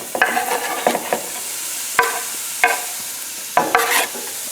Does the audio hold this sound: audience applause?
no